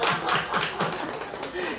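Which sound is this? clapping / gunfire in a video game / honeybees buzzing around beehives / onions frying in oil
clapping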